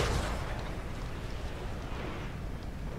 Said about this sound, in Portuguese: Canhão da Arca Negra.